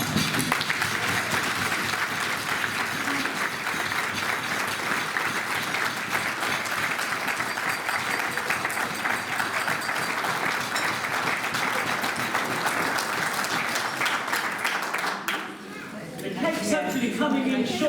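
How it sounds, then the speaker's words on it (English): Guests applaud steadily at a 90th birthday party, a dense sustained clapping that fills the room for about fifteen seconds before briefly dipping and resuming. "if you all give her a big round of applause while we get a rather special cake in for her"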